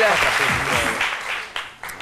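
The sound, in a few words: studio audience applause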